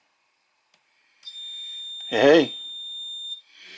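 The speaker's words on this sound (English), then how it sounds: "if I cause a short, you should hear a buzzer go off, and that LED should light" A steady electronic buzzer tone sounds when a short circuit occurs on a model railroad staging track, holding for a couple of seconds after silence, while a voice briefly exclaims over it.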